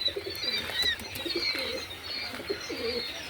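Young quail chicks, eleven days old, kept in a cage give soft, repeated chirping calls close by over a faint background hiss, with no talk.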